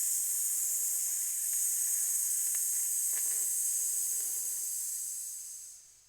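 A single voice holds a long, steady hissing S, imitating a sizzling serpent, bright and close with no other sound, then trails off as the breath runs out.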